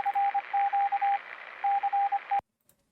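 A Morse code radio broadcast from the video game Fallout 3 beeps in steady dot-and-dash tones over radio static, in two bursts separated by a short pause, then cuts off abruptly into silence.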